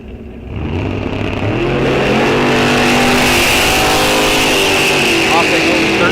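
A Ford Mustang powered by a Big Block Chevy launches in a drag race, its engine roaring loud and close and climbing steadily in pitch. A second car is also accelerating, and an announcer talks over the noise.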